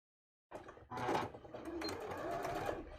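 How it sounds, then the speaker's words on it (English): A sewing machine runs a simple running stitch across the top of a skirt. After a short silence it starts with a few uneven stitches, then settles into a continuous, close, fairly quiet mechanical whir to the end. "I'm just going to be doing a very, very simple running stitch across the top"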